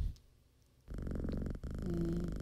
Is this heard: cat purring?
yes